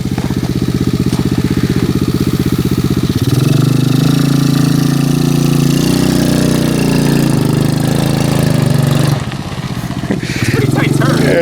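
Small engine of a lay low mini truck runs steadily and loud throughout, its pitch shifting as it revs and settles while the vehicle is driven, with a brief dip near the end.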